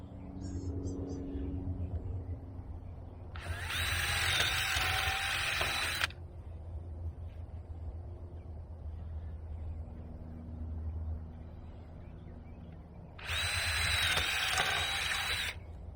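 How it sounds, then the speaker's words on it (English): A handheld power drill runs in two bursts of several seconds each while banana plants are braced with wire outdoors, the whine rising sharply over a low background hum. "I'm going to take my drill and some wire."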